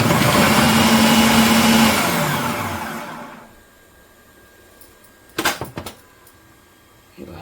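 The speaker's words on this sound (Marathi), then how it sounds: "आता हे एक अगदी दोन सेकंदामध्ये कांदा बारीक होतोय" An electric chopper minces onion in the kitchen with a loud, steady whirring motor for about two seconds, then slowly winds down and stops, followed by a few brief clatters as the chopper is handled.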